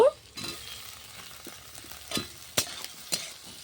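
Tomatoes frying in a pan alongside chopped garlic and ginger, with a steady soft sizzle broken by a few sharp clinks and scrapes of a utensil stirring, close by and with no talking.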